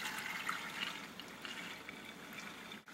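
Soaked beans and water pour into a pot for BBQ baked beans on a Big Green Egg, giving a soft, continuous splashing and trickle that ends in a short clunk.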